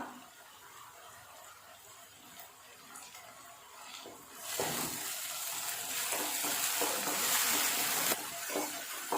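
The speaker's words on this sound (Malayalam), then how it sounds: "റെഡ് ചില്ലി സോസ് ആണ് കേട്ടോ ഇപ്പം ചേർത്ത് കൊടുത്തത്. അത് നന്നായിട്ടൊന്ന് ഫ്രൈ ആവണം." Sauce frying in a pan: quiet stirring at first, then a loud sizzling hiss bursts up about halfway and keeps going with occasional scrapes.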